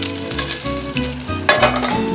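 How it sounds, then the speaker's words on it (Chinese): Saury fat and sesame oil sizzle and fry in a pan, a close, steady crackle with a brief burst of louder spitting and stirring partway through. "然后是不是里面就有一些香油跟秋刀鱼的油"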